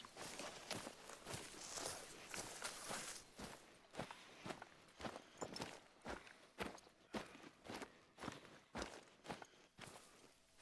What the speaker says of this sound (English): I crouch walked to keep my noise and visibility down as I got closer.